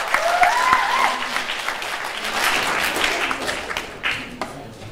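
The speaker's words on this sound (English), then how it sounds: "one more round of applause for Pastor" An audience gives a round of applause for a pastor after a hip hop performance, with dense steady clapping filling the room throughout, a few whoops and voices rising over it.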